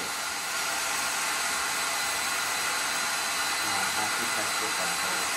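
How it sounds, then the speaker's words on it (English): A hand-held hair dryer blows on hair at home, a loud, constant whooshing hiss that runs the whole time, with a faint voice briefly underneath near the end. "What are you gonna blow dry it for 20 minutes?"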